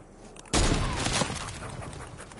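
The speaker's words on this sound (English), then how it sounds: "You sniped your own floor." A sudden loud blast from a sniper rifle in Fortnite is followed by a crumbling, shattering wash of debris as a built floor is destroyed, and the noise stays close and dense for about two seconds.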